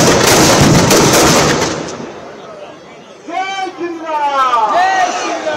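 Loud crackling firecracker bursts at a Dussehra Ravan effigy burning fill the first seconds, then fade as a crowd cheers and voices call out in the distance.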